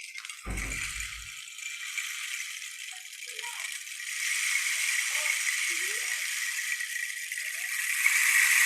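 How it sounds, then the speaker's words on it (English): A short burst of dry wooden rattling from a Guarani Mbya wren stick rattle near the start, then a steady hiss of insects or outdoor ambience with faint chirps. "it could be called wren stick because it is a stick and it make a sound like the wren"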